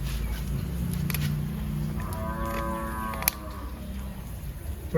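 A cow in a rural village lets out a long, low moo that rises and falls over a couple of seconds, heard at moderate distance over steady outdoor background noise.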